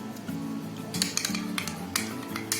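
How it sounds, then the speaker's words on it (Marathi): Salsa ingredients mixed in a bowl for nachos, a spoon scraping and clinking against the dish in quick, busy strokes, close up with steady kitchen background and no talking. "हे आता आपल्याला आहे ना सर्व साहित्य याच्यामध्ये आपल्याला मिक्स करायचं आहे"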